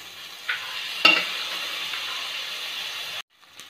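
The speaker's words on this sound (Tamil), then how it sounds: "வேக வச்சா மட்டனை வந்து இதில் ஆட் பண்ணிக்கலாம்." Cooked mutton sizzles loudly in masala in a pan, with a sharp stir or scrape early on, then a steady frying hiss that cuts off abruptly near the end.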